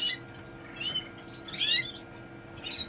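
Pet birds kept for song competitions chirp in a few short, high, faint bursts against a quiet indoor background.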